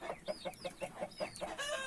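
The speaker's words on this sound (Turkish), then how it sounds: "çiftliğinde horozlar ötüyor, tavuklar, tavuklar ötüyor." Farm chickens and roosters give a quick run of about nine evenly spaced clucks, clear and moderately near, with other birds faintly behind.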